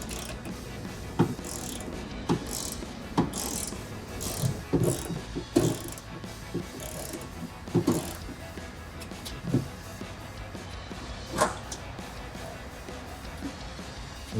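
Loosening a bolt on the trunk spoiler of a 2015-2023 Mustang GT350, a run of faint clicking ratchet strokes and small metallic knocks, close by and irregular, with no talking.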